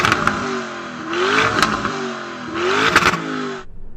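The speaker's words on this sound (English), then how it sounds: "Okay, Harry, let's hear the Urus." A Lamborghini Urus SUV engine revs in two strong bursts, its pitch climbing and falling with each blip, loud and close outdoors before it cuts off abruptly.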